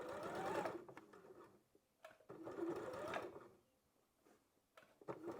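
A domestic sewing machine stitches bias binding on a blouse or dress, running in two sustained whirring bursts with short pauses and small mechanical clicks between them, close and clear with no talk.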